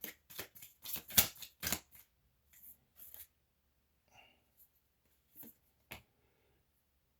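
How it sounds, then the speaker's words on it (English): A tarot deck is shuffled up close in quick bursts of riffling card noise, then several softer, sparser taps and shuffles with pauses between them. "I'm getting like I should shuffle like this on this one."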